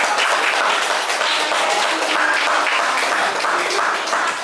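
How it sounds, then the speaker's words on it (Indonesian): Applause from a classroom audience for a student group after its presentation at school, a dense, steady clapping that fills the whole stretch at close range with no talking over it. "Dengan tepuk tangan untuk kelompok"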